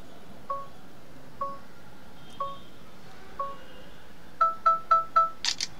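Vivo Y100 5G phone runs its photo timer: four evenly spaced soft beeps, then four quicker beeps and a crisp shutter click, all close and clean over near-silent background.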